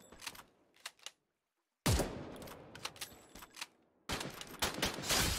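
Gunshots in the Free Fire battle royale game: a few quiet scattered shots, a brief silence, then loud rapid bursts of fire that return after a pause and run to the end.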